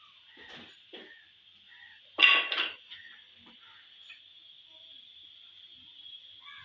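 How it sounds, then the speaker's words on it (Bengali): A metal karai is set onto a lit gas stove to cook cabbage with goat fat and potatoes. It lands with one sharp clank and a brief rattle, over a faint steady high hiss and scattered soft kitchen knocks. "আমি গ্যাসের ফ্লেমটা অন করে দিয়ে কড়াইটা চাপিয়ে দিলাম"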